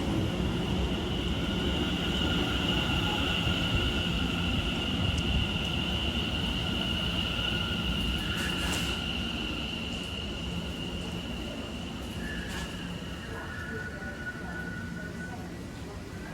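A British Rail Class 710 Overground electric train runs past with a steady mechanical hum, high motor whine and rumble, passing close and loud before easing slightly, with a brief voice over it.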